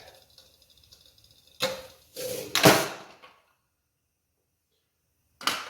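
A sudden sharp crunch and crackle of a thin metal can collapsing under air pressure, a few quick bursts close by, followed by silence and a brief final rustle.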